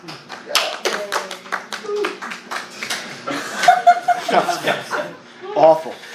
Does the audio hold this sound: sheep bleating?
no